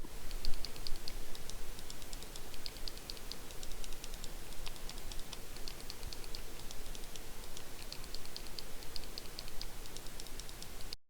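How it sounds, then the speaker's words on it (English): Shoulder buttons on an IINE Mecha Warrior Joy-Con pressed repeatedly, giving faint, crisp mouse-like clicks in irregular bursts over a heavy background hiss. "So yeah, they sound like mouse clicks, they feel like mouse clicks"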